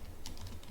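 Quick, light keystrokes on a computer keyboard, close and soft, over faint steady background noise, with no one talking.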